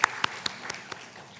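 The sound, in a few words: congregation applauding in church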